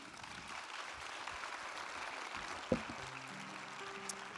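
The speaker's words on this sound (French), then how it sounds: "On peut les applaudir." An audience at a general assembly evening event in Châteauroux claps for guests. The applause is faint and steady, with a sharp knock partway through and a soft tone near the end.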